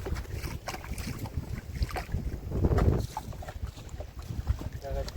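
Strong wind buffets the microphone on a rough river in the Sundarbans while fishing, with choppy water sounds and a voice talking intermittently underneath.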